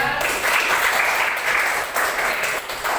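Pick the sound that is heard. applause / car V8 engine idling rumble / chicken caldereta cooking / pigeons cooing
applause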